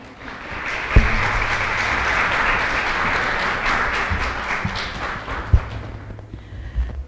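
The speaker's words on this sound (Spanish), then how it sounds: "Le damos un fuerte aplauso a doña Aida." A conference audience at a national archivists' gathering gives a warm round of applause for doña Aida, steady dense clapping with a few thumps from the stage that fades near the end.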